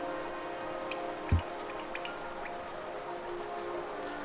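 Steady rain falls in the video game Hollow Knight as a continuous even hiss with a low hum under it, broken by one brief soft thud and a few faint ticks.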